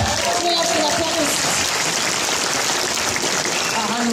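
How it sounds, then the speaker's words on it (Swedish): Audience at the Årets Göteborgare award show applauding a performer, a dense, loud, continuous wash of clapping filling the hall, with a voice briefly heard over it at the start. "Stor applåd. Snälla, snälla, applåd."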